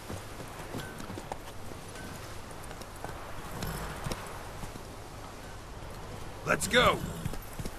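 Roach, the horse in The Witcher 3, gallops with steady clip-clop hoofbeats under game ambience, while someone talks over it and a louder burst of horse noise rises near the end.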